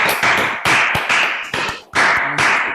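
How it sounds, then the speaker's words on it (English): Several people clapping in bursts over an online call, a short round of applause with uneven, clustered claps that rise and fade a few times. "let's give Bart a round of applause"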